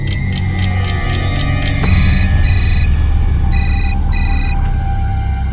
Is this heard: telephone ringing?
yes